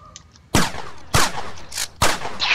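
Three sharp gunshots crack out in a video game firefight, each a loud close report about half a second apart with a short ringing tail. A faint lighter shot comes before them.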